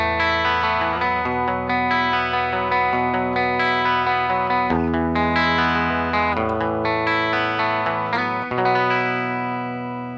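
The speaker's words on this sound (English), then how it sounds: "if I adjust the EQ a bit and switch over to my bridge pickup, you can really hear that Fender Bassman chiminess" Guitar on the bridge pickup through a Line 6 POD 2.0 Fender Bassman emulation, chimey sustained chords and picked notes ringing steadily and loud, fading at the close, with no voices.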